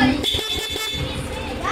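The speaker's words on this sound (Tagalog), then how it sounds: "Stock horn." A Yamaha NMAX V2 scooter's stock horn sounds in short, blaring toots amid background chatter and children's voices.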